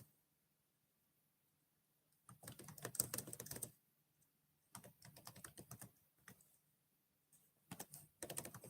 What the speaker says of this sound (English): I love when I start typing.